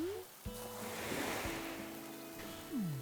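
Ocean surf rolling onto the shore in the Animal Crossing video game, a steady wash of waves under soft game music tones, with a brief swell near the end.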